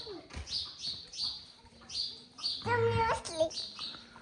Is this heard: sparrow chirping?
yes